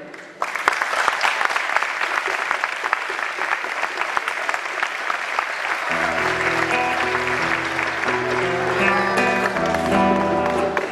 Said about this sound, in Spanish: Quiero también pedir un aplauso para toda la comunidad de Plaza Huincul por su aniversario.